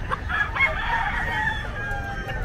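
A fighting rooster crows at a bustling pet market, its strained, drawn-out call carrying over a low background murmur of the market.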